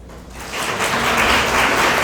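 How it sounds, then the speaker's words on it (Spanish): An audience at an academic conference breaks into applause, a dense burst of clapping that rises quickly and holds steady for a couple of seconds. "Démosle un aplauso aquí al maestro que nos va a participar con este"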